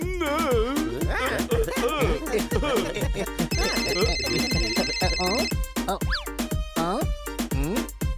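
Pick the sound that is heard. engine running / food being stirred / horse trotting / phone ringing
phone ringing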